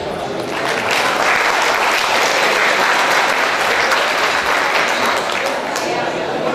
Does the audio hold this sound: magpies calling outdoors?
no